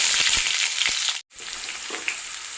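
Small shallots hit hot oil for a fish head curry, giving a bright, continuous close sizzle with a few soft clinks, alone and fairly loud.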